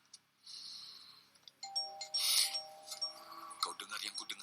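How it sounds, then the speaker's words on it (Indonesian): A doorbell sounds at night inside a quiet house, ringing its chime tones fairly softly, followed by faint clinking and rustling movement. "Itu memang bel pintu, tapi siapa yang datang malam-malam?"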